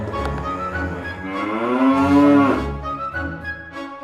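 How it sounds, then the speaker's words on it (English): A cow being hunted in a video game gives one long, loud moo that swells and bends in pitch, clear and alone with no talk over it. "Let's go hunt that cow now."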